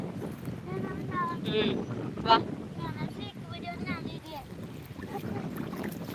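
Gusty wind rumbles and buffets steadily outdoors over a flooded paddy field as rain approaches, while several people talk and call out over it.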